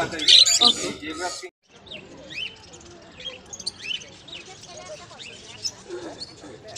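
Small birds chirp and tweet in scattered, fairly faint bursts at the Dakshineswar pet and bird market, under people talking nearby.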